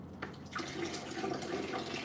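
Water runs steadily from a tap into a sink during dreadlock washing, a continuous moderate splashing flow with no voices.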